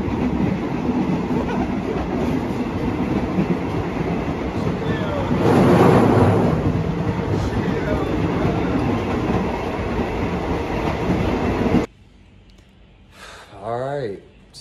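Continuous rumble and clickety-clack of a four-hour train ride in Thailand fills most of the stretch, swelling briefly, before cutting to a quieter interior where a voice is heard faintly.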